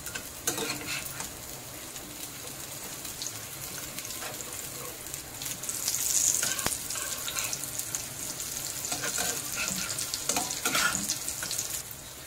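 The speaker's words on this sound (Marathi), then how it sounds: "हे बघा, चांगलं फ्राय झालेलं आहे. आता आपण पलटी करून घेऊया." Stuffed capsicum bhaji fry in a pan and are turned over, a quiet crackling sizzle broken by a few clicks and scrapes of the spatula, growing slightly louder midway.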